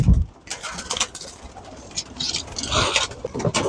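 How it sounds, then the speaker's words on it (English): Robertson racing pigeons coo softly nearby, low repeated murmurs with light wing patter and faint rustling. "This is my Robertson racing pigeon"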